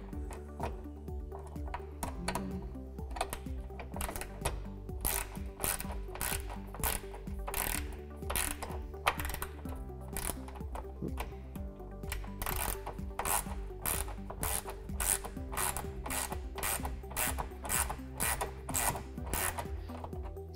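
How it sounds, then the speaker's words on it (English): Ratcheting 7/16 and 3/8 wrenches tighten bolts while an RBO front folding windshield is installed on a Polaris Ranger XP 1000, giving steady rapid clicking strokes throughout, close and continuous. "Same 7/16 and 3/8 wrenches here."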